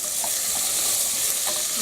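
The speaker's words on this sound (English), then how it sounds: "Give it a quick stir." Potatoes frying in a pan with browned onions, a continuous close hiss of sizzling oil with a few soft stirring sounds, even and unbroken.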